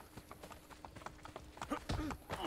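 Horse hooves clip-clop on a city street in the Assassin's Creed Brotherhood video game, a steady run of hoofbeats that grows louder toward the end, with a voice speaking faintly underneath.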